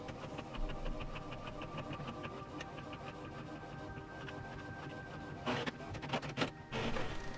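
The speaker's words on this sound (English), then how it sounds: "let's go ahead and start printing" An inkjet-style printer running on transfer paper, its print head shuttling in a steady rapid ticking rhythm with a whirring mechanism, close and continuous, then louder paper-feed bursts toward the end.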